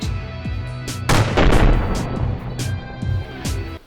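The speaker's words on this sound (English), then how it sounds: "After 2 ranging shots, the 2 remaining A7Vs retreat." A WW1 German A7V tank gun firing ranging shots, loud booming reports with echoing rumble, several sharp bursts spread across the clip amid battlefield noise.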